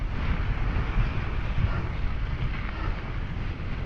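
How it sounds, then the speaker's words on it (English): Strong wind roars and buffets the microphone while someone rides into a headwind on an outdoor trail, a loud continuous low rumble without speech. "I'm actually going against the wind now."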